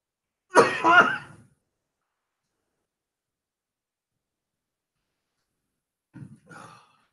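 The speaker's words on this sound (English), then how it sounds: "I sense a coughing fit coming on" A coughing fit during a coding session: a loud burst of throat-clearing coughs close to the mic, then several seconds of silence before a fainter second round of coughing.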